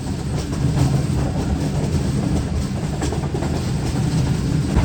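Shalimar Express passenger train running steadily on the rails at night as it enters Nawabshah, a continuous loud rumble with faint wheel clatter throughout and no voices.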